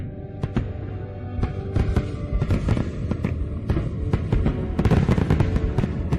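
Grand fireworks display over the Shuangjiang River in Changsha, Hunan, a dense run of loud bursts and crackling pops overlapping continuously against a rumbling backdrop, no talk.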